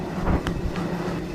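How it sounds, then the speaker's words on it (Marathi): A passenger train on Indian Railways pulls into a station with a steady low rumble and faint clattering from the wheels, heard from the platform at moderate loudness with no one talking. "तर आपण आलो आणि आपली गाडी पण आली बघा."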